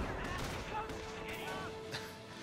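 Sniper gunfire in Company of Heroes during a Normandy invasion mission, with several sharp cracks scattered over a dense wash of battle noise while a voice talks over it.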